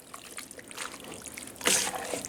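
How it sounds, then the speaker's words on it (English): Water trickles and pours quietly into a pot of homemade Wendy's-style chili, a soft splashing that swells near the end, with no speech. "But we're going to add the water to it."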